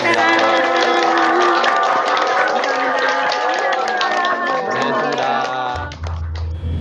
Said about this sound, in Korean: 뜨거운 감사의 박수 부탁드립니다